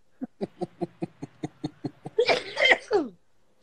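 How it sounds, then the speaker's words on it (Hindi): A rapid run of about ten short, even coughs, then a burst of harsher throaty coughing and spluttering before it falls quiet. "मैं खांसती हूँ"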